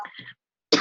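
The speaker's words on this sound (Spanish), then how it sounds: "Ya me di cuenta que tiene tos." Someone coughs close to the recording, a short throaty burst, then silence, then a second sharp, harsh cough.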